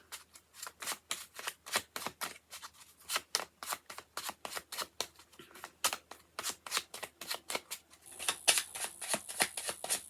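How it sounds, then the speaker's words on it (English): A deck of tarot cards is shuffled by hand, giving a fast, steady run of close, crisp riffling flicks that keeps going throughout with no talking. "One more shuffle, then I want to get to the other deck."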